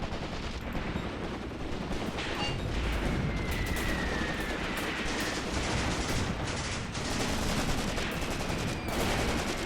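Continuous gunfire and artillery fire rumbles through a WWII tactical battle in Graviteam Tactics: Mius Front, a dense wall of overlapping shots and booms with no pauses and no voices.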